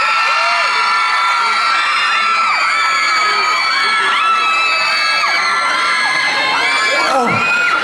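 Dense concert crowd at a Money Expo show in Hat Yai screams and cheers continuously, a loud wall of high-pitched shrieks and whoops swelling and falling throughout.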